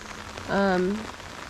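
Rain falls steadily onto a swollen creek river after a night of heavy storms, a continuous soft hiss with a brief tonal sound rising over it partway through.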